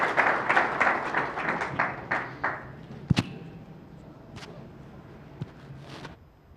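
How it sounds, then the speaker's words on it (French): An audience at an official opening ceremony claps in a dense burst that thins into a few scattered, separate claps and taps. "sous vos applaudissements"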